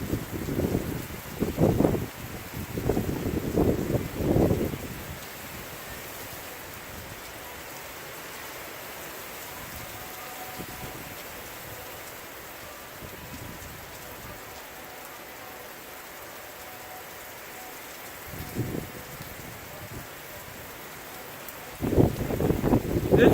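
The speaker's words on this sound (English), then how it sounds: "There's the rain." Steady rain pouring during a severe storm near a house, a constant hiss of drops on surfaces, with someone speaking over it at the start and end.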